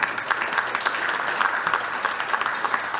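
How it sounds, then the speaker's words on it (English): Steady applause from a conference audience at a Web 3.0 event, dense and even for a few seconds, with no voices over it. "join me in a round of applause for the speakers"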